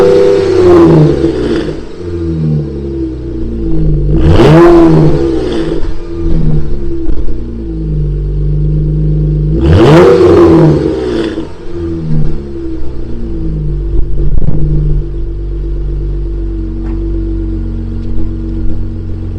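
A 3.6 engine fitted with Jones mufflers and an X pipe, warm and not cold-started, rumbles loudly at a deep steady idle, with two sharp revs blipping up and falling back before it settles.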